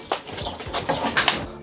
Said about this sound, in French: Vos gueules les oiseaux là.